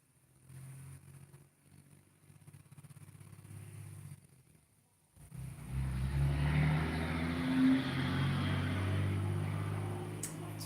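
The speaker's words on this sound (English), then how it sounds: "This is a very loud truck." A loud truck passes outside, starting as a faint low rumble, then swelling abruptly into a heavy, broad engine roar that stays loud and rough to the end.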